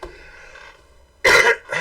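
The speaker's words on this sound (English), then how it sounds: "And I have a cough." A single harsh cough or throat clearing bursts out after a quiet stretch, followed by a smaller second one, close and loud.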